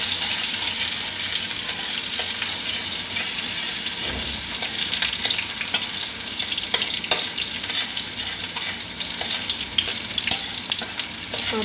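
Onions sizzle steadily while being stirred and browned in a pan for a drumstick (sajna) dish, a dense, constant frying hiss with occasional scrapes and clinks, no talking.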